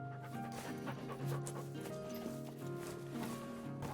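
A dog in the video game The Red Lantern pants steadily while being petted, quiet rhythmic breaths over a soft game music melody.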